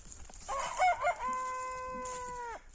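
A rooster crows loudly and close by, one long drawn-out call with a rising start and a sustained, steady tail.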